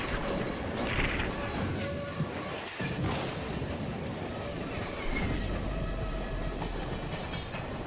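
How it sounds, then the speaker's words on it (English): A train rumbles steadily in the video game Find Yourself, a loud continuous rolling roar with a faint high whine and a heavier thump near the middle. "Oh, it's a train."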